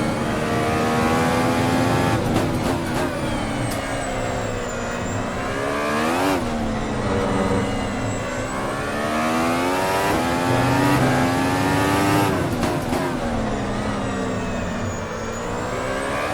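An AMS F-Ultimate race car with an open differential at Interlagos, its high-pitched engine screaming and revving hard through repeated gear shifts and wheel spin, loud and close with no talk.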